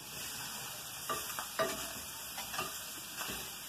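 Potatoes fry in oil on a wood-fired stove at a rural farmhouse, a steady soft sizzle with a few light scraping taps of stirring, no voices.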